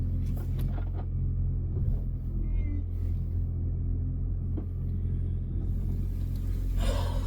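A steady low engine rumble fills the inside of a car that is acting up while pulling out of a parking spot, with a few faint thumps and rustles over it and no clear talking.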